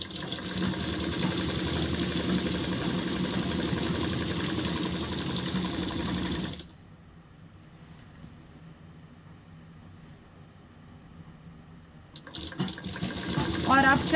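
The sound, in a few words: sewing machine stitching salwar pieces together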